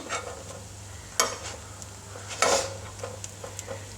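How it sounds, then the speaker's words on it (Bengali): Food fried in a pan with a little ghee, turned from side to side: a quiet sizzle with a few sharper bursts of spitting and scraping as pieces are flipped, with light utensil clinks and no talking. "এরকম সুন্দর এপিট ওপিট করে ভেজে নিলেই কিন্তু হয়ে যাবে"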